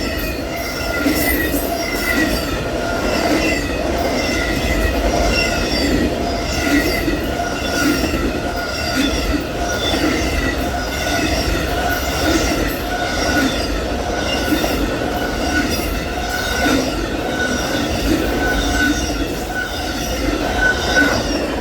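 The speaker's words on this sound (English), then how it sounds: "A massive auto train" Long Amtrak Auto Train passing close by in Palatka, Florida, giving a steady loud roar of rolling cars, rhythmic clacking over rail joints and wheel squeal throughout, with no talking.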